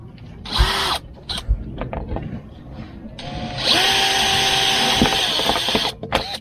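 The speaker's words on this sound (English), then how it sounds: "let's drill this out." A power drill whines in bursts, then runs steadily at high pitch as it grinds through an old corroded metal rivet on a sailboat, loud and close, with clanks between runs.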